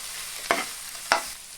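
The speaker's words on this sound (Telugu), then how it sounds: "దీని మధ్యలో తీసుకొని అటు ఇటు కలుపుకుంటూ ఉండాలి బాగా." Chili masala curry (mirchi ka salan) stirred and fried in a pan, with two sharp scraping stir strokes about half a second apart over a soft steady sizzle.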